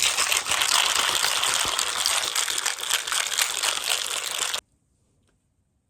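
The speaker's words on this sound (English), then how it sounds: "give it a nice vigorous shake." Sorrel rum punch shaken hard in a lidded cocktail shaker gives a loud, steady rattling wash of liquid and ice for about four and a half seconds, then stops abruptly into near silence.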